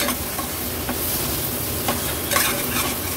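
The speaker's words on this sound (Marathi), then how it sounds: "वाटण पण मसाल्यांसोबत छान आपल्याला असं परतून घ्यायचंय।" Ground masala paste sautéing with spices in oil for a no-onion, no-garlic vegetarian dish, a loud, close, continuous sizzle with stirring scrapes and a brief clatter partway through.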